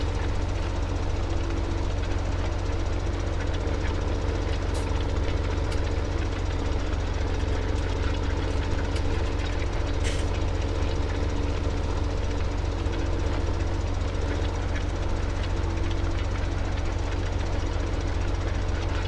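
A tractor engine in Farming Simulator 17 drones and knocks continuously at a steady idle, low and rumbling, with faint rattles and clicks on top.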